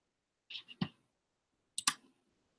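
Two separate sharp mouse clicks on a Save Changes button in a web dashboard, each a brief close tap about a second apart against silence.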